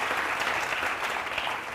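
An audience claps on a televised courtroom-style talk show, a dense, even burst of applause that holds steady for under two seconds.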